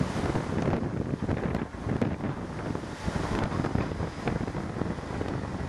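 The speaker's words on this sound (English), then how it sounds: "Very windy today." Steady wind buffeting the microphone at a railway bridge during track relaying, a constant rumbling roar with gusty surges throughout and no voices.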